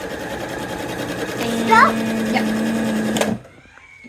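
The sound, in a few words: sewing machine run by stepping on the foot pedal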